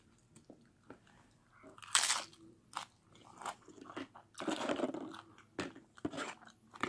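Crunchy bites and chewing of food during a home mukbang, close-up and intermittent, with irregular crisp crunches and quieter mastication between them.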